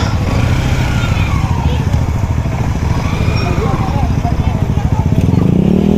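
A motorcycle engine runs loud and close, a steady pulsing rumble that swells toward the end, while people talk over it.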